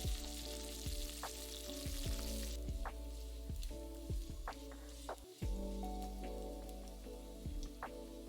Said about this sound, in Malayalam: കുറച്ച് കറിവേപ്പില, 2 പച്ചമുളക് നീളത്തിലരിഞ്ഞത്, 4 ഉണക്കമുളക്, ഇതെല്ലാം കൂടി ഇട്ട് ഇഞ്ചിയും വെളുത്തുള്ളിയും അല്പം മൂപ്പിച്ചെടുക്കുക